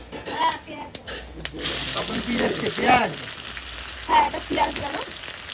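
Oil fries in a kadai while chana paneer is made, a soft crackling sizzle heard underneath people talking close by.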